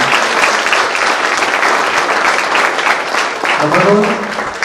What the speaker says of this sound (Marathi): आपल्या संस्थेसाठी एकदा खणखणीत टाळ्या झाल्या पाहिजे